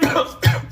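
A person coughs twice in quick succession, loud and close, in a home kitchen during cooking. No speech accompanies the coughs.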